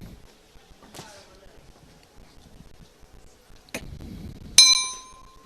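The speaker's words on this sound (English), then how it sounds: "And there goes the bell." A boxing bell at the IBA 2025 Men's World Boxing Championships in Dubai rings once sharply to end the round, a bright metallic ding that decays quickly, preceded by faint crowd noise and a couple of thuds.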